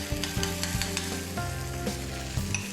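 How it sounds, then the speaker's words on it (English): Onion and tomato sauté in hot oil for a curry masala, a steady close sizzle with a few sharp stirring clinks and scrapes of the spoon against the pan. "This is onion and tomato which is being cooked like you cook any masala for any curry at home"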